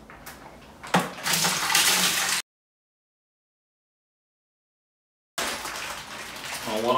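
Liquid from a wine kit bag tipped into a sterilised brewing bucket, a loud splashing gush that stops abruptly, then resumes after a short silence.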